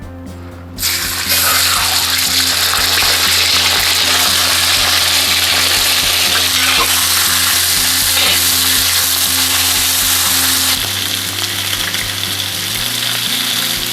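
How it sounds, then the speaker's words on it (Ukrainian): Loud, continuous sizzling of meat frying in hot oil in a cauldron, a dense crackling hiss that carries on steadily with occasional stirring. "А тепер, поки м'ясо смажиться"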